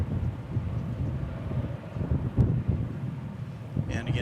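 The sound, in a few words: wind blowing at airport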